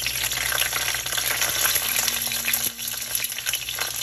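Mustard seeds and chillies fry in hot oil for an Andhra catfish curry, a loud, steady close-up sizzle and crackle that continues without a break.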